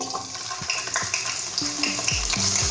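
Onion frying in hot oil in a pan, a loud continuous sizzle with spoon scrapes and light clatter of stirring throughout, close by and without voices.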